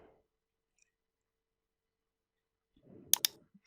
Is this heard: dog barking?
no